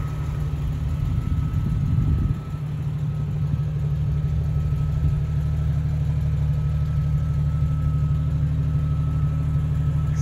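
A built 1999 Jeep Cherokee XJ idles close by, its engine holding a steady low rumble and hum throughout, with a brief louder surge near the start before settling back to an even idle.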